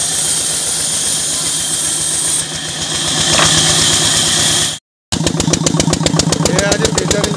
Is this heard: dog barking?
no